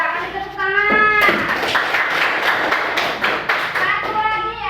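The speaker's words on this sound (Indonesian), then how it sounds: "Udah, kasih tepuk tangan." Children clap their hands together in a classroom, a dense burst of fast, uneven claps lasting several seconds, with an adult voice speaking over the start and end.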